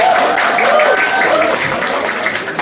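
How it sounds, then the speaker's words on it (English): An audience at a live Poumai musical event in Delhi applauds musicians with sustained, dense clapping while a voice speaks loudly over it. "Let's give a round of applause."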